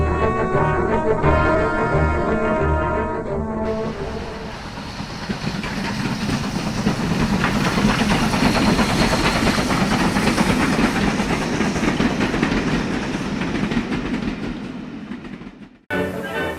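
A World War II-era train rolls along the rails with a steady rumble and rhythmic clatter, loud and continuous, building after music fades and cutting off abruptly near the end.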